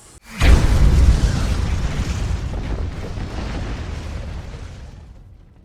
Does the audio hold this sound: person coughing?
no